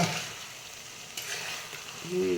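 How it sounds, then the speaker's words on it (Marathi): Masala spice paste frying in oil for village-style stuffed brinjal, giving a steady soft sizzle with a few faint stirring scrapes, close by and without speech. "असा मस्त मसाला परतून घ्यायचा म्हणजे चांगला शिजतो मसाला"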